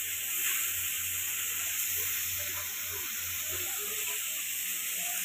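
Puris frying crisp on a tava griddle give a steady, close sizzling hiss that fills the whole stretch without pause, with no talking.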